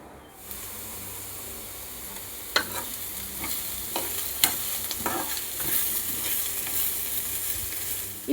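Samosa filling with green chillies sizzles and fries in a pan, a steady hiss broken by scattered clicks and taps as it is stirred, close and alone without speech.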